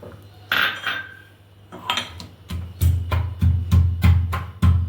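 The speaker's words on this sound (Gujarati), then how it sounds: "કાટી લેશું ખાંડણીમાં આદું લસણની પેસ્ટ બનાવી લેશું" Repeated pounding thuds in a stone mortar, several sharp strikes in a steady rhythm after a brief scraping start.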